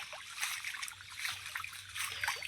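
Rainwater trickles along the ground in a village after heavy rain, a soft, steady, close-by babble of running water with small splashing bursts and no voices.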